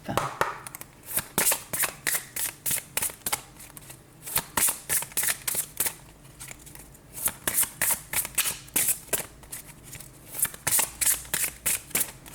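Tarot cards shuffled by hand for a new spread: a long run of quick, crisp riffling bursts in a steady, repeated rhythm, close and clear, with faint speech in places.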